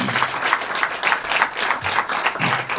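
Applause at a city press conference where the mayor and city leaders present a CARE expansion plan: a crowd claps steadily and fairly close for a few seconds, dense and continuous with no talking over it.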